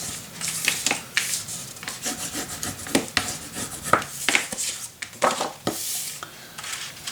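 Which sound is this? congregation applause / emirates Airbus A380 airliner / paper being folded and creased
paper being folded and creased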